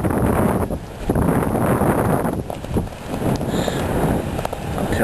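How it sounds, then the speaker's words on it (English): Strong gusty wind batters a small sailboat under a small craft advisory, giving loud, rough broadband rumble and buffeting that surges and dips over the few seconds. "this wind is rocking"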